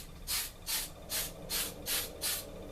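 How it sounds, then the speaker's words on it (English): Six evenly spaced hissing bursts of spray paint from an aerosol can coating a plastic scale model, each burst about a third of a second long, close and fairly loud with short pauses between. "Spray it like this."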